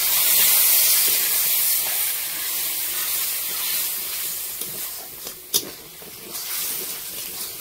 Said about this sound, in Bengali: তো একটু আমি পরিমাণ মতো একটু জল দেবো, যেহেতু মশলাটা যাতে না ধরে যায়